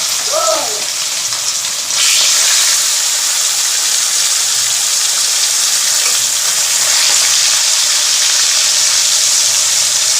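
Loud, continuous sizzling of fish frying in oil in a wok, close and steady after a short voice at the start, with the hiss swelling slightly as it continues.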